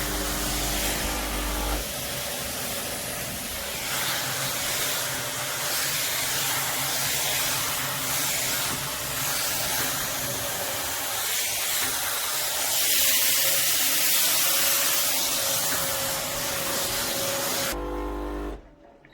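A Laurastar S Pure ironing system's board fan blowing upward, then switched to suction, producing a continuous loud airy whoosh with a click-like change near the start and an abrupt stop at the end.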